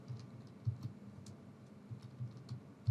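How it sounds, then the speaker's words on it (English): Quiet, irregular tapping of keys on a computer keyboard, soft and close, with no talking. "Okay, I'm just typing this."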